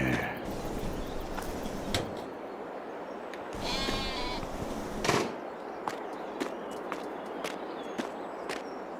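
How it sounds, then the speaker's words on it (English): Sheep bleating in the farming video game Farming Simulator 22, a few scattered bleats over steady ambient noise with clicks and steps, moderately close. "Lots and lots of sheep."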